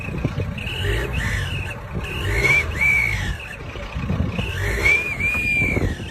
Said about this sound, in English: You just clamp an actual whistle to your car's tailpipe to make up for not having a turbo